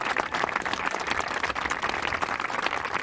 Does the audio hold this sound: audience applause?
yes